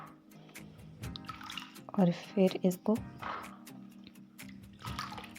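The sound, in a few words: washing raw papaya pieces in water for tutti frutti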